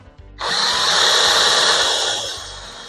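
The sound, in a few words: power drill with a dull 1/2 inch bit drilling a panel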